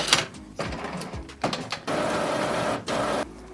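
Epson WorkForce Pro WF-3820DWF printer running a printhead cleaning cycle, pushing ink through the printhead: clicks and clunks followed by two stretches of steady mechanical whirring, close up and alone.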